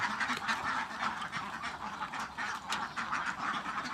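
Dense, continuous quacking from many ducks close by in a storm-damaged pen, a busy flock calling over one another without pause.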